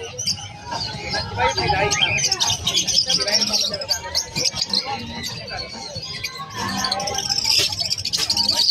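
Budgerigars at the Malabon pet market, a yellow face opaline among them, chirping in quick busy twitters throughout, with people talking steadily over the birds in a crowded setting.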